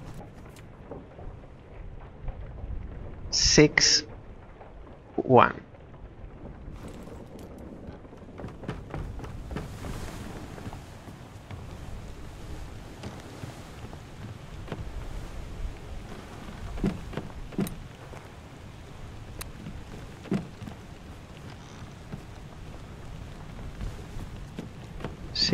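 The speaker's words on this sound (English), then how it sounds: "Next memory is the day of the storm." Storm at sea with rain and thunder in Return of the Obra Dinn, a steady hiss of rain with scattered crackles and low rumbles throughout, plus a couple of sharp high tones early on; a voice briefly speaks.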